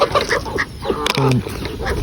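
Nasal quacking from farm ducks, several short calls in quick succession, close and fairly loud, with light background noise.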